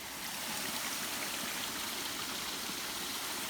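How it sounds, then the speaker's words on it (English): A spring runs into a creek along the Appalachian Trail, giving a steady, close wash of flowing water that holds an even level throughout with no voices. "Looks like a spring right here running into a very nice creek down the hill that way."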